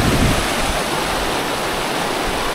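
The Nambalan River in Mayantoc, Tarlac rushes in a loud, steady, close roar of flowing water with no breaks or voices.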